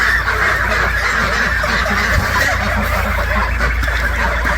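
Ducks shut in a barn and wanting out, honking and quacking loudly at close range. The calls come as a dense, continuous chorus over a steady low rumble.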